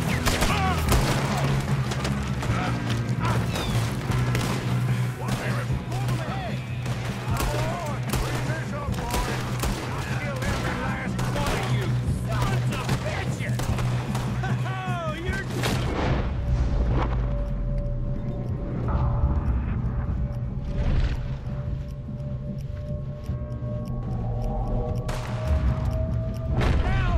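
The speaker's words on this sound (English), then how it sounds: "Good shooting, kid." Gunfire in Red Dead Redemption 2 cracks in rapid bursts and scattered single shots, loud and close, with voices speaking between volleys before the firing thins out.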